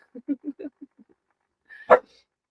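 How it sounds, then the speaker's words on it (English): A dog barks at her ball behind a guitar, with an echo off the instrument: a single sharp, close bark after a few seconds of soft, quiet talking. "You can hear the echo off the guitar when she barks at it."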